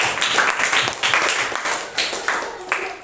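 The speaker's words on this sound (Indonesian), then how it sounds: "Tepuk tangan buat semua kelompok kita" A classroom of sixth-grade pupils claps for their student groups after presentations, a dense, fairly loud patter of many hands in uneven bursts lasting several seconds, with the group's voices murmuring underneath.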